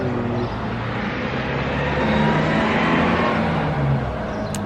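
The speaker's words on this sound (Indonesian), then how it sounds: "Oh itu mobil Carrefour." A Carrefour car drives past on a street in an upscale Dubai residential neighbourhood, a steady loud road roar with engine hum that swells slightly as it passes.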